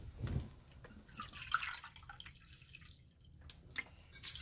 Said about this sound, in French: Pour commencer, on va mettre une tasse d'eau froide